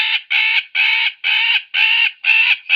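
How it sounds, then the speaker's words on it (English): Harsh, rapid chattering bird calls repeat in six or seven loud bursts with short gaps, close and alone, an agitated alarm from a magpie. "an alarm or distress call produced by a magpie bird"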